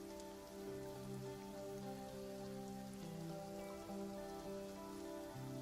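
Steady, dense rain patter from a sun shower in the Path to Nowhere video game, continuous and close throughout, layered with soft sustained musical tones.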